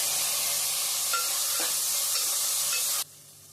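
Onion, tomato, curry leaves and garlic fry for a fish curry, a close, even sizzle with a few light stirring scrapes that stops abruptly just before the end.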